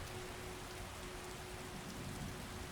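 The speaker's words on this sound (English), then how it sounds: "in this case weather, rain." Rain in a Skyrim-style video game set around Whiterun falls as a steady, even hiss throughout, fairly soft and continuous with no talk.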